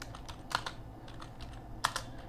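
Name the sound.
typing C code on a computer keyboard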